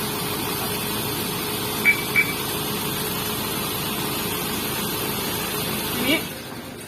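A Mazda BT-50 pickup idles with a steady low hum after a remote start, while two short electronic beeps chirp early on.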